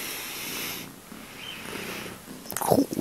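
A house cat purring softly and steadily at close range indoors beside a window overlooking a garden, followed by a brief louder rustle near the end.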